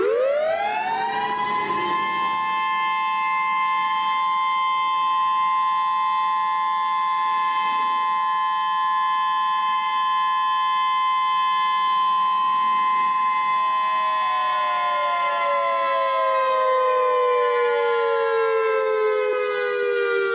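A World War II German air-raid warning siren wails continuously and loud, its rising tone holding steady for most of the stretch before slowly sliding down near the end, with no voices.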